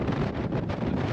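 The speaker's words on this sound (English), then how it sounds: "That's because it's cold, windy" Cold wind buffeting the microphone on the open running-track deck of a Royal Caribbean cruise ship at sea in Alaska, a loud, rough, continuous rumble.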